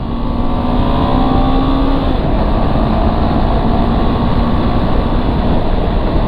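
CFMOTO CL-X 700 ADV motorcycle on a ride, with a loud steady engine drone and heavy wind rumble at the rider's position, the engine tone shifting slightly partway through.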